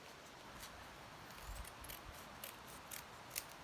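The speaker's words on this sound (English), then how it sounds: "take scissors and cut around the edge" Scissors snip around the folded edge of a coffee filter for an art project, a series of quiet, crisp cuts at a steady, uneven rhythm, close up, with no talking.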